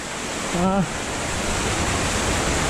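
Constant broad rushing of a river near a waterfall in Pasighat, Arunachal Pradesh, loud and steady, with a brief voice sound near the start.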